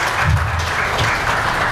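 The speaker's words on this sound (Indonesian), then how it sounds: "Kita beri tepuk tangan yang meriah." Audience applause at an Indonesian Prosecutorial Commission outreach event for advocates in Medan, a steady wash of clapping filling the short moment without any voices.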